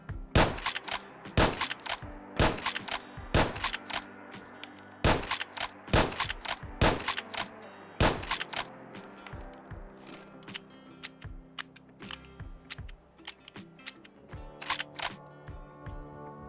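A Winchester Model 1873 lever-action rifle in a Fallout 4 mod fires about a dozen sharp, close shots in a steady rhythm, with mechanical clicks of the lever action between them and no talking.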